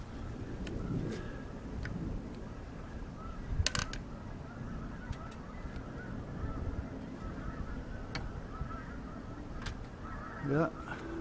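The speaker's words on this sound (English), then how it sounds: "I hear birds heading south." Geese honk intermittently in the distance over a rustling outdoor background, with a few louder calls near the end.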